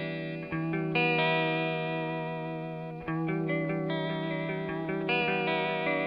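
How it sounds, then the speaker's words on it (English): An electric guitar runs through a Red Witch Empress pedal set for subtle vibrato with a short delay time, sounding gently wavering chords and notes played close and continuously with no talking. "subtle sounding vibrato by setting a short delay time."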